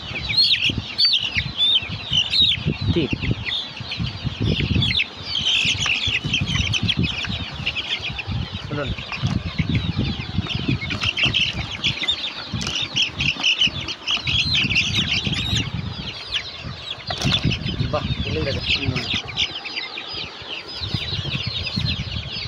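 Kadaknath chickens cluck and squawk up close while being weighed, with bursts of loud wing flapping and scuffling between calls and a voice speaking intermittently.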